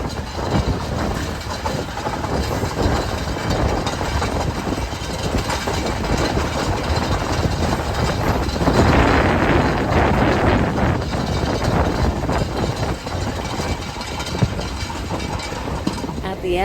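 A train engine rumbles steadily on a rail line through Limon, Costa Rica, loud and continuous with a heavier surge midway, with other sounds mixed in over it.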